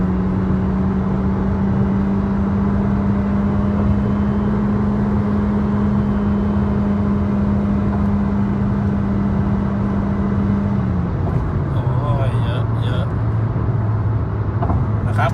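Honda Civic FC 1.8 with a remapped stock ECU and aftermarket rear muffler accelerating through the midrange, a continuous loud engine hum holding steady then dipping near the end, heard from inside the car.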